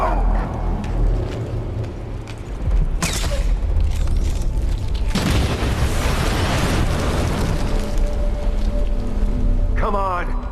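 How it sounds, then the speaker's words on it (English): Gunshots from a pistol or rifle in the stealth-action game Dishonored 2, with two sharp, loud blasts over a rumbling ambient bed and occasional game voices. "Someone's shooting at us!"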